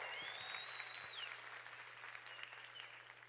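A church congregation applauds continuously, a dense wash of clapping from a large crowd heard at moderate distance, steady throughout without speech.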